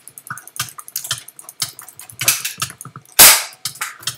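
Video game gunfire: rapid, sharp, clicky shots in an irregular stream over keyboard and mouse clicks, with one louder close burst partway through.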